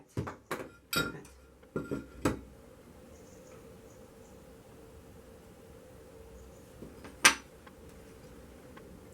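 Sheets of 4mm float glass for stained glass work are handled, giving a few sharp clinks and taps in a quick cluster, then quiet, then one more distinct clink, all close and fairly faint.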